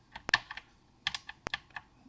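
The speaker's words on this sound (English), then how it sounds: "I thought this keyboard might be really good, but it's you're gonna have to. Well, the space is getting stuck." Keys tapped on the keyboard of an Electronica CIP-03, a ZX Spectrum clone, with a few uneven bursts of close, crisp clicks and clacks and quiet pauses between them.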